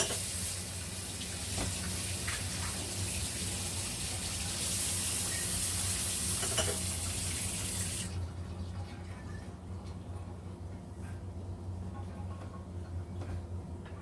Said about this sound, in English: I'm going to wash off my hands, because I do not like dirty hands.